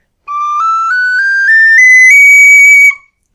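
In its higher second octave, a tin whistle plays a bright, piercing ascending scale of about seven held notes, loud and clean with no voices.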